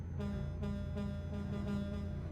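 Air horn of a Renault Trucks T truck in a driving game, sounding in several long, steady, deep blasts with brief gaps between them.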